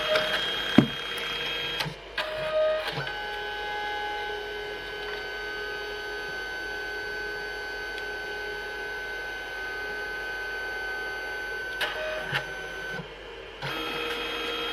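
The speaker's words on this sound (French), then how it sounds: "Et je vais imprimer." A white home printer prints a page: a steady mechanical whirring and feeding hum runs for about fourteen seconds, with clicks and clunks as it starts and stops, and no talking.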